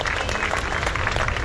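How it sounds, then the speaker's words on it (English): Beach crowd at a Pipeline surf contest applauding a surfer, a steady, dense burst of clapping throughout. "Round of applause for Johnson Andre, a true warrior here at Pipeline."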